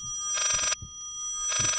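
Electronic telephone ring in the horror video game Layers of Fear: two loud, shrill bursts of ringing separated by a short gap, with no talk.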